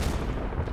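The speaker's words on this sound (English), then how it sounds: "I think that's just machine gun fire." Machine gun fire in the World War II strategy game Combat Mission: Battle for Normandy makes a brief, dense burst of rumbling gunfire at moderate volume, with no voices.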